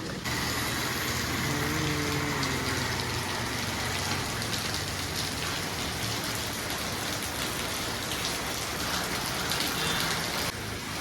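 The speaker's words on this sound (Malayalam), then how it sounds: "നല്ല മഴയാണ് കേട്ടോ നമ്മുടെ പാലക്കാട് ഭയങ്കരമായ മഴയാണ് നല്ല രാത്രി പിടിച്ച മഴയാണ് കേട്ടോ" Heavy night rain pours down in Palakkad, Kerala, a dense, constant roar of drops beating on surfaces, loud and unbroken for the whole stretch with no talking.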